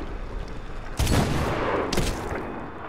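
Two sharp, loud sniper rifle shots in the Medal of Honor (2010) video game, about a second apart, each with a booming tail over steady background ambience.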